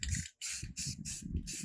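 Spray paint hisses from an aerosol can in short, evenly spaced bursts, about five blasts with brief gaps, close and crisp, while a tumbler is hydro dipped in water.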